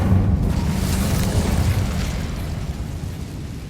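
Incendio fire spell cast in Hogwarts Legacy, a loud, sustained whooshing roar with deep rumbling boom that fades slightly over a few seconds, no talk.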